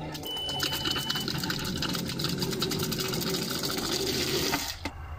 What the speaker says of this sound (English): Let's see when we put it on how the pump primes.